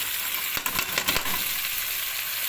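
Green fava beans with meat sizzle steadily in a pan on low heat as black pepper, cumin and coriander go in. A few brief stirring clicks sit over the constant frying hiss.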